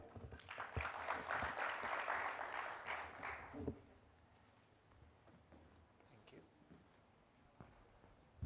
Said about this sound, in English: With a huge round of applause, let us welcome Mr. Manish Panjwani.